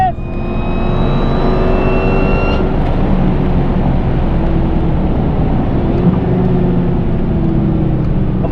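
A Dodge Challenger Hellcat roars hard on a race track, a loud continuous engine drone with a rising whine early on, sustained throughout and close up.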